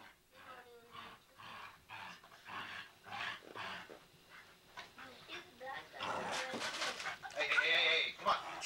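A dog at a ranch at Christmas whimpers and yelps in short bursts close by, mixed with people talking, growing louder and busier toward the end.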